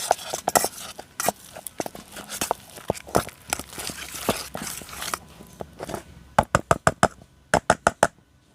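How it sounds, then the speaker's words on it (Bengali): Boiled potatoes mashed with a masher for a potato snack, giving repeated soft squelching presses and knocks against the bowl, irregular at first, then a few sharper, evenly spaced thumps near the end, close and fairly quiet. "খুব ভালোভাবে কিন্তু ম্যাশটা করে নিতে হবে যাতে কোনো দানা দানা না থাকে।"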